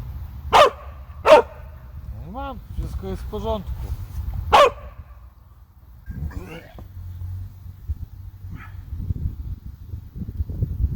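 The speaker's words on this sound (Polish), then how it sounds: "Mamy takiego pieska tutaj na ośrodku." A dog barks three sharp, loud times near at hand, with pauses between, while people talk in between and afterward.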